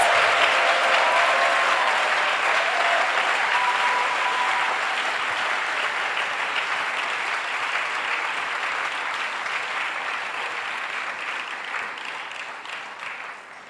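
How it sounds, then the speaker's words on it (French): A church congregation at a Sunday praise and worship service in Abidjan claps together in loud, sustained applause that slowly fades over about fourteen seconds. "Let's clap more than that."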